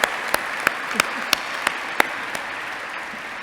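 An audience applauds steadily at a dinner event, with a dense wash of clapping and a few sharp, regular claps standing out near the front.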